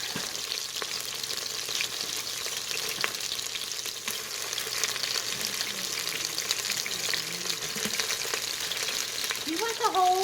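Onions seasoned with salt fry in a pan with a quiet, even hiss and crackle throughout, and a faint voice shows up briefly near the end.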